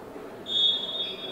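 Referee's whistle at a handball match between Budafoki KK and TF Budapest, a single clear steady blast sounding for most of a second over low arena murmur.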